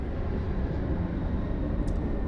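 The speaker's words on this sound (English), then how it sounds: "we're just gonna have to deal with jet noise" Jet aircraft noise rumbles steadily through the clip, a loud, broad, low roar that holds at an even level without breaks, with no voices over it.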